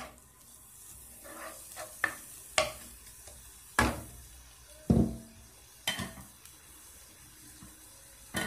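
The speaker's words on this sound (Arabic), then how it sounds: "جغل بصلي يقلي شوية" Onion fries quietly in oil with a faint sizzle, interrupted by several sharp clinks of a utensil against the pan.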